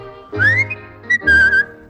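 Two short melodic whistled phrases, clear and close, the second rising and holding a steady note, with no speech.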